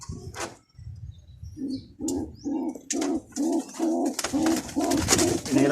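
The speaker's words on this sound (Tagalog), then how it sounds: "Mga ibon natin dito." Pigeons cooing nearby in a steady series of soft, repeated coos, about eight or nine evenly spaced calls, with a few higher chirps and light background noise.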